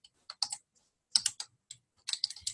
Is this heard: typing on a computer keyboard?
yes